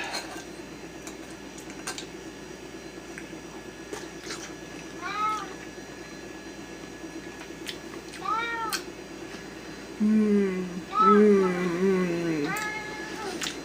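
A cat meows several times, short plaintive calls that grow longer and more insistent near the end, with faint kitchen clinks in the background.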